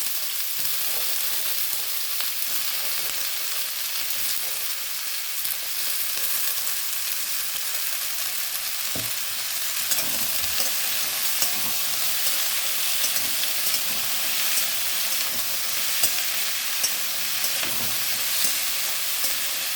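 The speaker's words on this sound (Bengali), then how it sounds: "আলুগুলোকে বেশ করে তেলের সঙ্গে লাল লাল করে ভেজে নিতে হবে বন্ধুরা" Continuous loud sizzle of potatoes frying in oil in a pan for a Bengali aloo posto dish, with occasional stirring scrapes and no talking.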